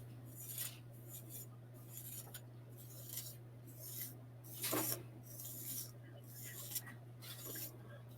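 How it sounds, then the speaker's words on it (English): Fork tines scrape through a beard in repeated close, soft raspy strokes, a steady series of rubbing bursts over a low background hum, with one louder stroke near the middle. "Use my trusty fork to comb my beard."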